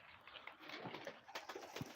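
Soft, low pigeon coos repeating in short murmuring bursts, several birds close by with faint rustling underneath.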